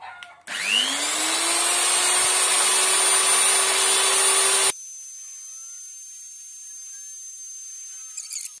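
A loud power sander whirs steadily for about four seconds while smoothing the valve of a PCP air rifle, then cuts to a quieter lingering hum of the motor winding down.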